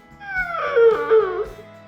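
Inside a custom garage, a dog howls and whimpers in one long wavering, pitch-sliding cry, loud and close, over a faint low background hum.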